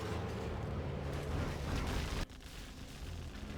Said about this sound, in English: Carpet and artillery going to be on the ExCaL oils at the top there.